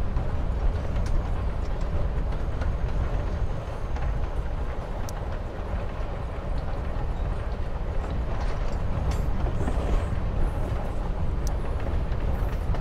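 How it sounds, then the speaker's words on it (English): Steady rumble of a train ride in the Xbox One X game Life is Strange: Before the Storm, a continuous loud low roar with faint rhythmic clatter and no voices. "You're on a freaking train with Rachel freaking Amber."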